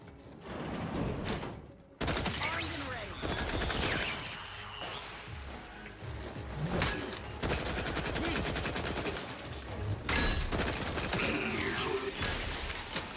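Rapid bursts of gunfire from a weapon in The Outer Worlds 2, loud and near, repeating in rattling volleys with brief pauses between strings of shots.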